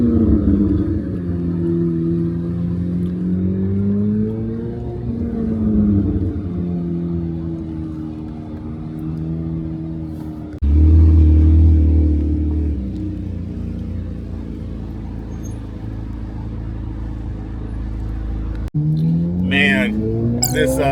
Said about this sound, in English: I love the sound of the Z06.